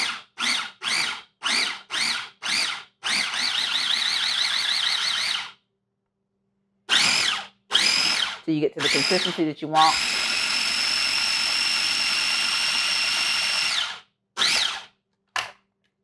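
A small electric food chopper pulses pea pesto, a run of short whirring bursts followed by longer sustained whines with gaps of silence between, loud and close, with a person speaking briefly amid the noise.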